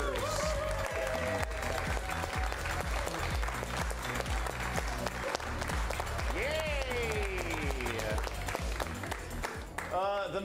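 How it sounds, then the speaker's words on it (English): An audience applauds at an improv comedy show, a steady wash of clapping and crowd noise with loud music and voices running over it throughout. "I want everybody to give a massive, massive round of applause for the Curious Comedy Players!"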